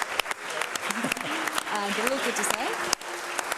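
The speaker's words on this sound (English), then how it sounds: "round of applause to everybody" Audience applause for contestants at a startup pitch competition final, clapping running throughout at moderate level while someone talks over it.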